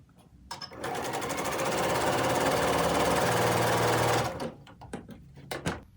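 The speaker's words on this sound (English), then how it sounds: "Now we're going to sew on the other side of the center line" A sewing machine stitches a seam across half-square triangle blocks for a fat quarter quilt, running loud and steady for about three seconds, with quieter handling clicks and rustles before and after.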